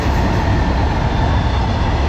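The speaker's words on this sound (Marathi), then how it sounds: "बघा तेव्हा दुसरी पण रेल्वे निघाली आहे का" A passenger train rumbles past on Indian railway tracks, a loud, close, continuous roar of wheels and carriages with a dense low drone and no break for the whole stretch.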